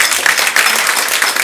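Audience applause at a live German stage event, a dense steady patter of many hands clapping together throughout the short stretch, fairly loud and even with no voices.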